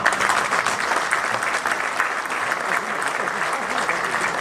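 Audience applause at a formal gathering, a dense, continuous clapping from a large crowd that holds steady throughout, with some voices underneath.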